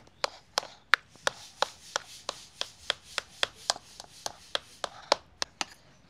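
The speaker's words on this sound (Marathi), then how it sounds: "बटाटा फोडल्याच्या नंतर थोडा गरम आहे त्याच्यामुळे मग चाकूनेच बारीक करते।" A knife chops warm boiled potatoes into small bits on a board for lachha paratha filling, a steady run of about twenty crisp, close taps with soft scraping between them.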